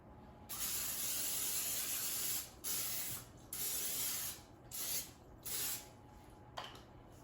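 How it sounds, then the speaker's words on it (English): Non-stick cooking spray hissing onto a round 9-inch cake pan, one long close burst followed by several shorter bursts, loud and alone. "Now I'm going to spray a round 9-inch cake pan with a non-stick cooking spray"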